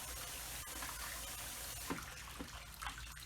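Water pouring and splashing steadily while a 5-gallon gold prospecting bucket is rinsed off outdoors, a continuous close wash with small splashy bursts.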